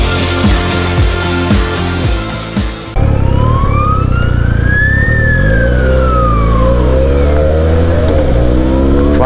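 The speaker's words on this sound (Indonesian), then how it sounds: "So guys, aku potong lampu sebab belakang ada ambulans." Wailing ambulance siren sweeps up and down loudly behind a car on a road, steady and close after an abrupt start, with engine rumble underneath.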